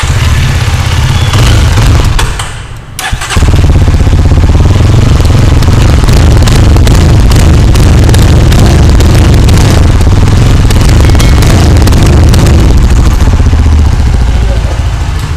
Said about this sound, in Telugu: ఇప్పుడు ఒకసారి స్కాంబ్లర్ యొక్క ఎగ్జాస్ట్ నోట్ సెల్ఫ్ స్టార్ట్